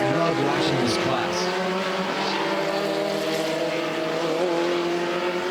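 Honda S2000 race cars in an SVRA race at Mid-Ohio, engines droning and revving continuously as the field passes, with commentators talking over the racing noise.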